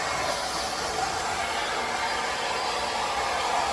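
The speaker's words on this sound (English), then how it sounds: "start blowing it out with the blower." A blower drives a steady, even rush of air over wet paint on a 16x20 Dutch pour canvas, a continuous loud hiss with no breaks and no talking.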